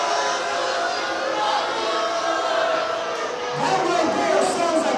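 Wrestling show crowd roaring and jeering in a dense, continuous wall of voices, loud and close throughout, swelling slightly near the end.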